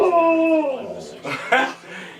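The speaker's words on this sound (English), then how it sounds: "Who's the dog in the studio?" A dog in a broadcast studio gives a drawn-out whimpering howl that slides downward, followed by a couple of short whines, while people talk over it.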